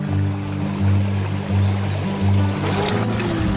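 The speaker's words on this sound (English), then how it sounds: "Made it to the first waterfall." Creek water pours over a small waterfall in a continuous close rush, with a low pulsing drone swelling and fading beneath it.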